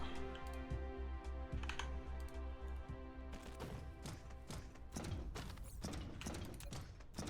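Quick, close keyboard taps from a player's computer keyboard, clustered in bursts over looping video game music with a steady low pulse.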